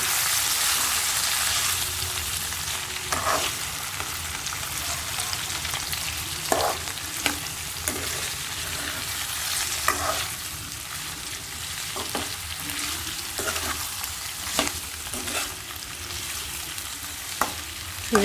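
Chopped broad beans and onions frying in a pan give a continuous close sizzle, with intermittent spatula stirs and scrapes punctuating the steady crackle; no voices.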